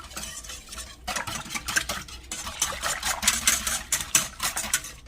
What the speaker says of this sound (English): now I will take the whisk, and I'm going to whisk it so it will start loosening up some